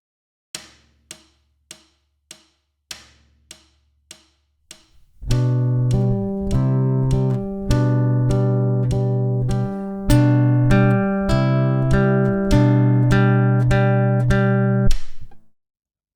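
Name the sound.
fingerstyle guitar playing Sor's Andante, quiet and loud, 100 bpm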